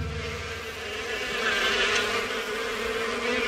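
A cartoon swarm of bees gives a continuous, droning buzz that holds steady throughout and swells slightly toward the middle.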